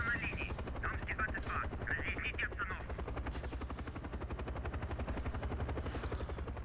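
A helicopter's rotor thumps steadily throughout with a low engine drone in the video game Call of Duty: Black Ops, while people talk excitedly over it.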